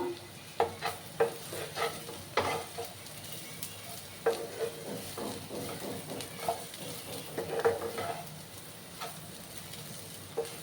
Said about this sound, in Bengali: আবার ভালো করে আমি নাড়াচাড়া করে দিলাম